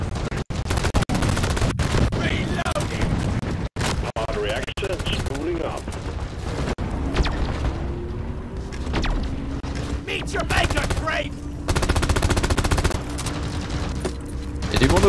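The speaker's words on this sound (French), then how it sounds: "Mitraillette là." Machine gun fire in the video game Deep Rock Galactic, with rapid bursts of rattling gunfire and mechanical clanks amid chaotic combat noise, while people talk over the action.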